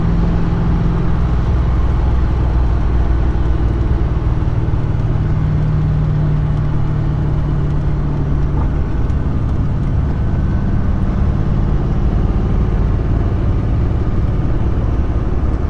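A 1972 De Tomaso Pantera cruises along at an easy pace, its engine a steady, loud, unbroken drone under continuous road and wind noise, with no voices.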